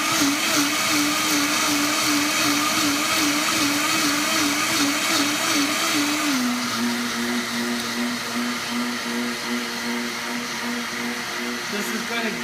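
A Vitamix blender whirs loudly and steadily blending potato cabbage soup with cashews, its pitch dropping slightly partway through as the load changes, running continuously throughout.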